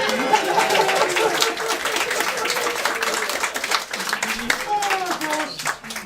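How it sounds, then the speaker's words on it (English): An audience at a church service held in a bar claps together, a continuous wash of applause with voices calling and chattering over it throughout. "Let's give ourselves a round of applause."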